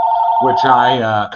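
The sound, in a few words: telephone ringing during a recorded interview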